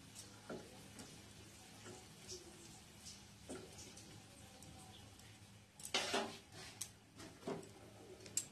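A dal tempering sizzles quietly in a pan after the gas is turned off. A soft crackle runs under a few stirring taps, and a louder scrape and clink come near the end.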